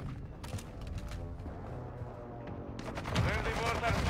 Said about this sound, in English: There's the mortar strike inbound.